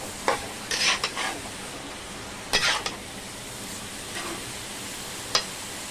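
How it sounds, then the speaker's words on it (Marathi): Pumpkin sautéing in ghee over a high gas flame, a low continuous sizzle broken by several sharp spatula scrapes and clinks against the pan, no one speaking. "फास्ट गॅसवरती मी जरा परतून घेते हा भोपळा तुपामध्ये"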